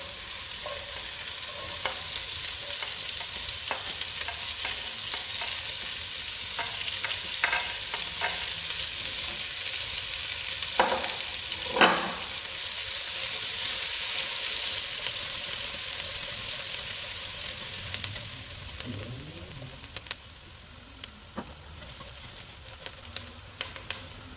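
Mirepoix vegetables sautéing in a pan with browned lamb, a continuous close sizzle broken by stirring scrapes and clatters, swelling into a louder hiss midway before settling into lighter crackling and utensil taps.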